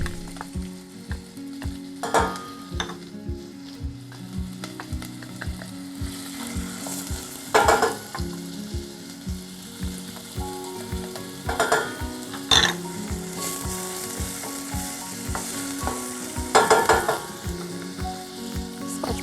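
Onion, garlic, Scotch bonnet, ginger, coriander stems and curry paste sizzle in hot oil for a vegan curry, a steady close fry with regular scraping stirs throughout and louder bursts as the pan is stirred, no talking.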